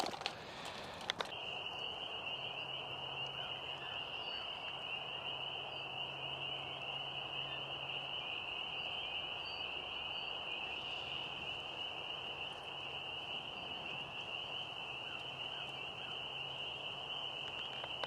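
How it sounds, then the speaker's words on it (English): Crickets chirp steadily at night in one continuous high trill that carries on unbroken, with a faint low hum underneath and a short knock near the start. "These crickets don't have any clue what's happening tonight"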